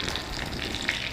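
Curry leaves sizzle in hot oil for a tempering for a taro-stem huli menasu, a steady crackling hiss with small pops throughout the short moment, close and fairly loud, with no voices.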